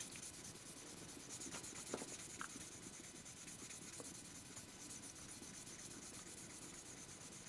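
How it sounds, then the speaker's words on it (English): A grit 1000 file rubs across an acrylic watch crystal to remove scratches, giving a faint, continuous scratchy rasp with no talking. "let's begin now with the first run in that direction with the file, with a grit 1000, to get rid of these major scratches"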